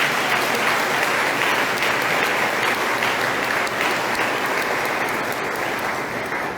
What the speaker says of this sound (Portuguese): A todos nós, uma calorosa salva de palmas.